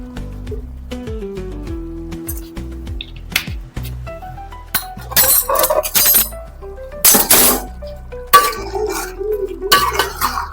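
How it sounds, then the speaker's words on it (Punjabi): Metal utensil clinking and scraping against a pot while biryani ingredients with potatoes and added kewra water are mixed, a run of close, irregular clanks and knocks. "ਇਹਨੂੰ ਅੱਛੀ ਤਰੀਕੇ ਨਾਲ ਮਿਕਸ ਕਰਾਂਗੇ ਅਸੀਂ।"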